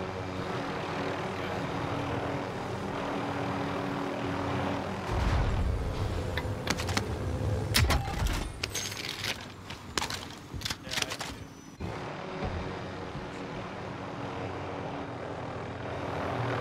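Helicopter in a Call of Duty Warzone style shooter, a steady rotor and engine drone with bursts of gunfire and impacts mixed in, continuing after the firing stops.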